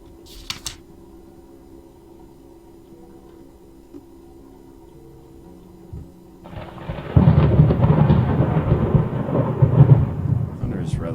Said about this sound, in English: Thunder is rather repetitive.